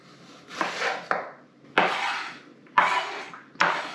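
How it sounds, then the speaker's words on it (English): A knife slices onions thinly on a cutting board, giving four crisp, close strokes in an even rhythm with short pauses between them and no voices. "So we want these sliced very thinly as well."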